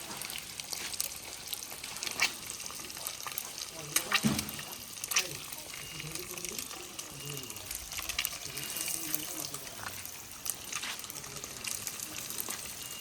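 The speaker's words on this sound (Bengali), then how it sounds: "এবার উল্টে দিচ্ছি অপর সাইডে ভাজার জন্য" Whole eggs fry in hot oil in a kadai after being turned over, giving a steady, moderately loud hissing sizzle with a few sharper crackles and spatter spikes.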